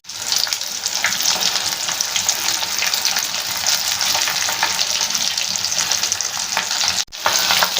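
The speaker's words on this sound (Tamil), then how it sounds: "வவ்வால் மீன் ஃபிஷ் ஃப்ரை ரெடி ஆகிட்டுருக்கு" Vaaval pomfret fish frying in a crowded pan of oil, giving a loud, dense, continuous crackling sizzle heard close up with no talk, cut off for an instant near the end.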